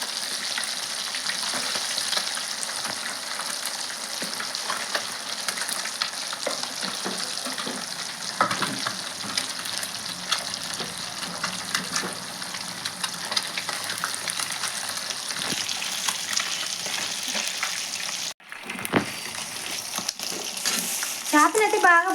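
Spicy fish fries in a pan with a continuous loud sizzle, punctuated by scraping and clatter as pieces are turned, the hiss briefly dropping near the end before resuming.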